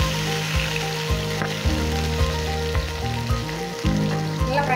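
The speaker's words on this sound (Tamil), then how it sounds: "தக்காளி வெங்காயம் நல்லா ஃப்ரை ஆயிடுச்சு." Tomato and onion with curry leaves fry in a pan for a lentil-dumpling curry, giving a steady, close sizzle that runs unbroken throughout, with tonal sounds layered over it.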